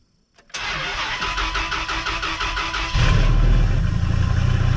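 A turbocharged 8.0L V10 engine in a 1999 Dodge Ram 2500 pickup cranks and catches after a short silence, settling into a loud, rumbling idle that deepens and grows heavier near the end.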